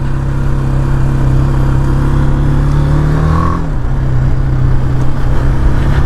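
A loud BMW G310R 2021 motorcycle engine revs up, its pitch climbing steadily before dropping off as the throttle eases, with no talking.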